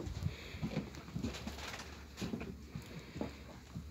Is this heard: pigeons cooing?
yes